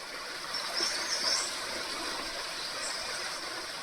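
A mountain stream in an Uttarakhand village flows with a steady broadband rush of water, continuous and moderately near, with faint birdsong above it.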